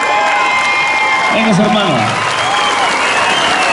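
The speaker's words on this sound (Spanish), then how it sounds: "En estos momentos el jaripeo se para y la gente se pone de pie, aplaude, reconoce." A jaripeo crowd at Rancho La Misión in Colusa, California, on their feet applauding and cheering in a steady, loud wash of clapping and shouts, with a voice calling out over it.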